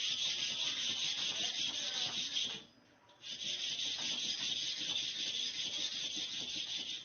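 A clipper blade is stroked back and forth across a flat plate iron to sharpen it, a close, steady gritty scraping with one brief pause.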